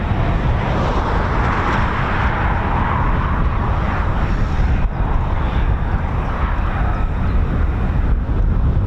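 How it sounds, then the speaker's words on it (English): Continuous roar of a Lockheed F-35B stealth fighter jet flying near an RAF airbase, with a broad rumbling wash of engine noise and wind buffeting that stays loud and steady throughout, with no voices. "sounds like we've got an F-35, a real one"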